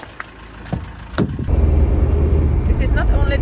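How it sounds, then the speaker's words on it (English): A camper van pulls away on its first test drive after engine maintenance: a few quiet clicks and knocks, then the engine rumbles up loud and steady as it drives off, with a short voice near the end. "This is the first official test drive after the engine maintenance."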